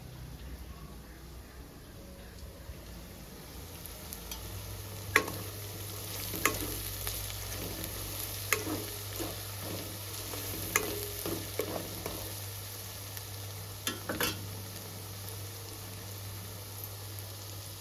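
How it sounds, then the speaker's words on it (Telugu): Curry leaves fry in a pan over a medium flame for a Telugu fish curry, a steady soft sizzle with occasional sharp stirring clinks against the pan and a low hum underneath. "మీడియం ఫ్లేమ్లో పెట్టుకొని బాగా ఫ్రై చేసుకోవాలండి."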